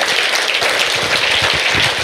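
Concert crowd applauding at Port City Music Hall in Maine, a dense, loud wash of clapping that fills the whole stretch without a break.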